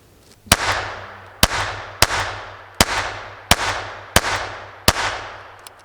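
Seven sharp, loud reports from a Ruger SR22 pistol shooting a mix of different .22 ammunition, spaced roughly evenly about a second apart, each with a ringing tail that decays before the next shot.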